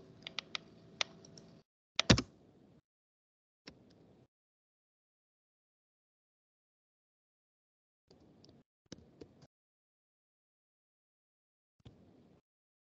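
Faint computer keyboard clicks come in a few short clusters separated by long silent gaps, with a denser burst of key taps at the start.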